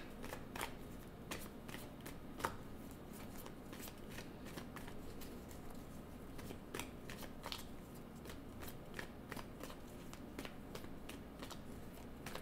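Tarot cards being shuffled by hand, a steady soft riffling and flicking with sharp card snaps scattered throughout, close and quiet, with no talking.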